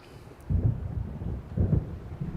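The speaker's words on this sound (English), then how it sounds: "It seems there's a storm coming." Thunder from an approaching storm in a video game rolls in as two low, muffled rumbles over quiet background ambience, one after the other.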